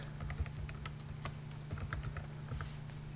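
Typing on a computer keyboard, quiet and steady with irregular light key clicks over a low background hum.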